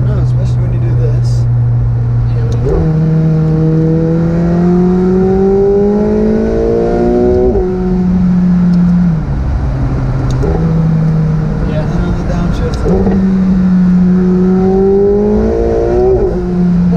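A McLaren 720S Spider engine revs and accelerates in repeated rising pulls, loud and close, with gear-change drops between surges; voices talk over the sound.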